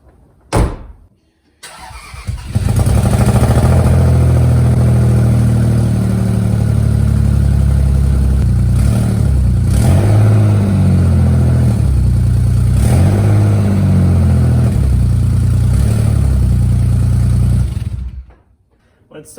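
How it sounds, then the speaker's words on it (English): An old, worn-out car's engine cranks and catches, then runs steadily and loudly with a rough, uneven misfire for about fifteen seconds before it is shut off, with a door-like thump near the start. "When it starts up, it has a pretty nasty misfire"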